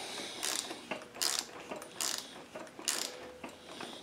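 A tap cuts pipe threads into an aluminum engine part, giving a quiet, close ratcheting clicks in about five short bursts with pauses between them, and nobody speaks.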